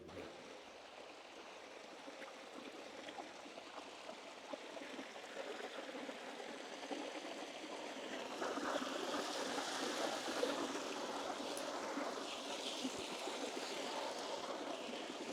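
Steady rushing of flowing spring water at Banganga, Walkeshwar, Mumbai, a continuous broad hiss that grows a little louder partway through, with no one speaking.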